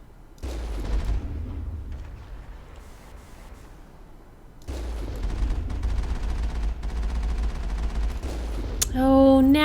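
Gunfire from the video game Mass Effect comes in dense, loud bursts of rapid shots. A brief lull splits it into two stretches, and a short tonal electronic sound comes at the end.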